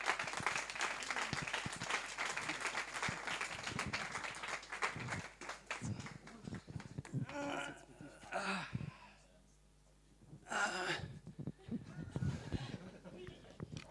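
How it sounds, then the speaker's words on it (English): Dense audience applause fills a Startup Grind event hall as two speakers are welcomed onstage, steady clapping for several seconds before thinning out while voices begin talking near a microphone. "Please give them a warm round of applause."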